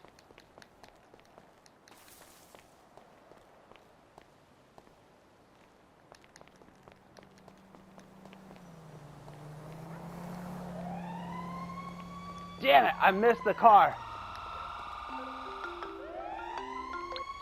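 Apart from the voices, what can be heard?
fire truck sirens in video game GTA 5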